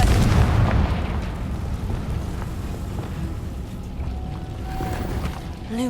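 A Confringo fire spell going off in Hogwarts Legacy, a loud booming blast at the start that rolls into a long rumbling, crackling decay with scattered debris, no voices.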